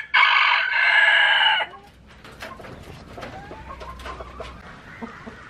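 Among fancy hen breeds, a rooster crows loudly and close for over a second, followed by scattered clucks and soft chicken calls from the flock.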